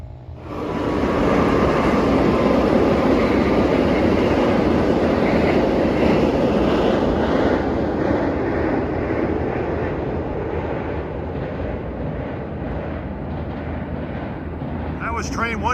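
Amtrak Train 125 from Springfield, Massachusetts to Newport News rolls past on the Perryville side of the Susquehanna River, a loud, steady, close rumble and roar that holds for the whole stretch and eases only slightly toward the end.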